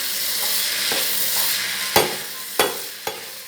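Vegetables being stir-fried in a pan give a steady sizzle, with a few sharp clanks of a utensil against the pan near the end.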